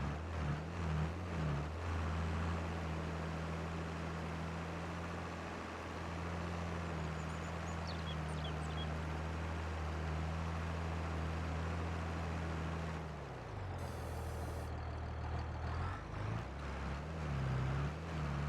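A tractor pulls a small implement across a dairy farm field near Westby, Wisconsin, its engine a steady, droning hum that dips briefly and recovers amid open-air noise.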